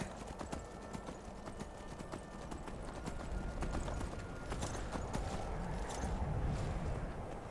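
In Skyrim, a horse gallops on and on, its hooves beating a close, rhythmic clip-clop for several seconds with no talking.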